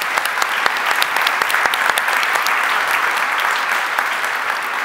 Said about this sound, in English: Big applause to Thomas.